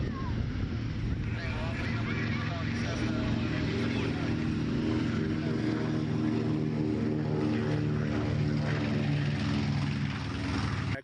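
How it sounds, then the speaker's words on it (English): Nanchang CJ6 open-cockpit propeller airplane droning steadily up close, a loud continuous engine and propeller roar with wind buffeting, and voices partly beneath it. "It's actually a Chinese Nanchang CJ6, comparable to the Yak-52"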